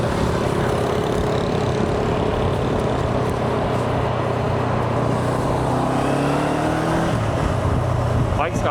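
A motorcycle on a road in northern Vietnam, its engine droning steadily with rising and falling pitch as it accelerates, heavy wind and traffic noise blending in close and loud throughout.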